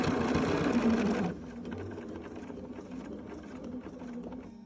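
A Bernina sewing machine with a 10D foot top-stitches binding onto a quilt, running in a loud, busy burst for about a second before settling into a quieter stretch of light, irregular mechanical ticking.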